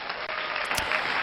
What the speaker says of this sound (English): it is required a round of applause